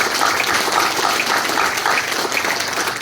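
Audience applause at a county office building ribbon cutting, dense steady clapping from a crowd, loud and close, filling the whole stretch without talk.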